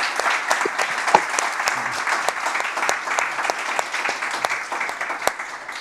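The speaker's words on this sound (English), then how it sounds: "Please, everybody, give them a round of applause." A room full of people at a panel discussion clapping steadily, a dense patter of many hands that holds at an even level without fading, no voices over it.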